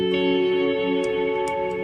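Mellow electric guitar played on the neck pickup through heavy reverb and chorus effects, sustained shimmering chords ringing steadily and close for the whole stretch, with no voices.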